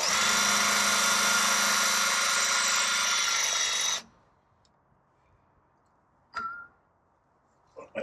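Power drill enlarging a bolt hole during construction of a foundation for a Woodmizer LT15 wide sawmill, a loud steady whine for four seconds that then cuts off, followed by quiet with a couple of short clunks.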